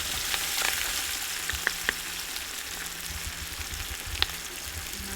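Dhokla frying in a hot pan gives a soft, continuous sizzle with a few light clicks and pops, close and fairly quiet.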